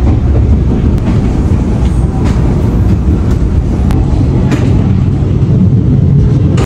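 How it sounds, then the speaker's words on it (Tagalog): A local train in Taiwan heading north, with a steady loud rumble of the carriage in motion, faint rail clicks and rattles heard from on board, and no talking. "Sakay ng local train going to north"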